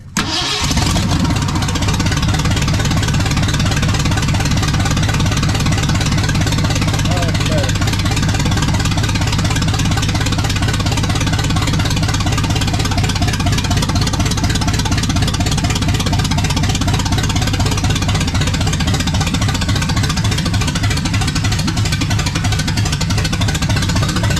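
A restored 1979 Ford F100 fires up its brand new engine, catching almost at once and then idling loud and close with a steady, slightly rough lumpy rumble for the whole stretch.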